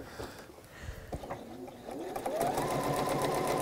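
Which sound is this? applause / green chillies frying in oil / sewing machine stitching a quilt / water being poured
sewing machine stitching a quilt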